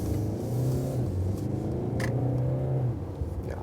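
Mercedes E-Class accelerating on a motorway, a steady engine drone with rising harmonics heard from inside the car, fairly loud and constant, easing slightly at the end.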